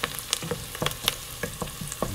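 Onions and garlic cook in a pan for butternut squash and bacon risotto, a light frying sizzle broken by repeated sharp scrapes and taps of a utensil stirring at an irregular pace.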